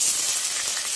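A piece of chopped ginger sizzles in hot oil in a pan, a loud, steady close-up hiss of frying with no break.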